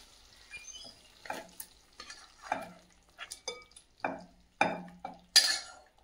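A spoon stirs meat curry in a frying pan with short scraping, sizzling strokes that come in an irregular rhythm and build louder near the end, with no talk.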